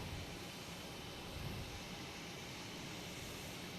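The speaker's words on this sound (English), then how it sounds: "And here's American Airlines coming in" American Airlines Embraer E175 jet on approach to land at Boston Logan, a steady broadband engine roar that holds evenly throughout with no talk over it.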